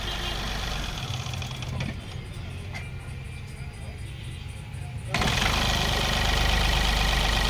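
A Mahindra Bolero B6 engine, recently troubled by a faulty self-starter, is running at a steady, close idle. It grows louder and fuller partway through, as if revving or starting up, and a voice talks over it.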